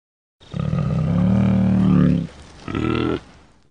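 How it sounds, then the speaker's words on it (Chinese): A rhinoceros calls twice: a long, rough, bellowing groan followed by a shorter grunt after a brief pause, close and loud with nothing else audible. "犀牛"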